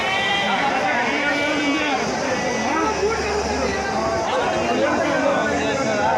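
A flock of Nellore Jodipi sheep bleats continuously at a livestock market, overlapping calls close by, with a steady crowd-like murmur of animal noise throughout.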